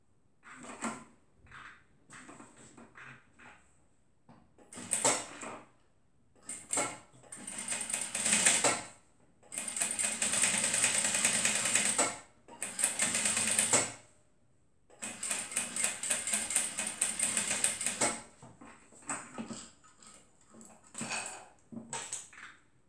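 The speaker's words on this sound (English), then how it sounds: "So now we're gonna stitch this straight line down." A sewing machine runs a straight line of stitches on a lined zipper purse in several bursts of rapid whirring, close and moderately loud, separated by quiet pauses and small handling clicks.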